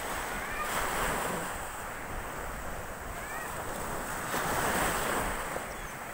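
Ocean surf rolls onto a town beach at sunrise in a steady broadband wash, swelling gently twice, with wind buffeting the microphone and no talk.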